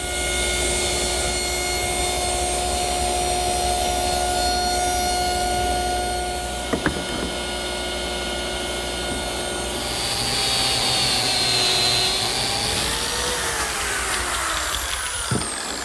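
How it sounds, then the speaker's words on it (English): A power saw mitering the corners of a wooden table band for a monastery table, a steady loud whine running throughout with a brief sharp knock midway and a shifting pitch toward the end. "Now I want to carefully miter all the corners of the band."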